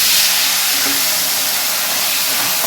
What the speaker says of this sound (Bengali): আলু ভাজা এবার আলুটা আমি দিয়ে দিই,